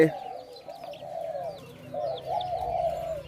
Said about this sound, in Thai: นกขันนะครับสนานวันไว้